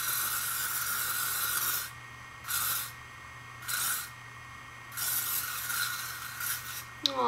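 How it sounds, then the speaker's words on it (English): An aerosol spray can spraying in several bursts: a long hiss, then three shorter sprays and a final longer one, close and fairly loud, with quiet gaps between. "Well, the spray's all gone."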